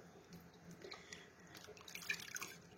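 Boiling water is poured over cherry plum compote in glass jars, making a faint, close trickle with scattered drips and splashes that grow busier toward the end, and no voices.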